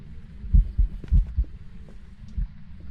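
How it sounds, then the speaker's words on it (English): Heartbeat effect during a ghost hunt in the game Phasmophobia, a deep, muffled double thump repeating irregularly over a low hum. "The heartbeat's very loud, so should be a Myling here."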